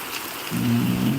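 Very heavy rain pours down steadily at night in Mulkanur, a dense hiss that swells after a brief quieter start, with no voices.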